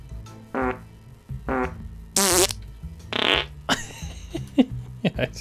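Repeated cartoonish fart noises from a toilet in the Minecraft video game, several bursts of varying length sounding one after another over a steady low game background hum.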